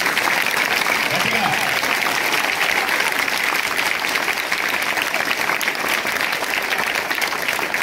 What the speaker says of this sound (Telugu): మీ స్కూలు టీచర్స్ కి ఒక్కసారి గట్టిగా చప్పట్లు పట్టండి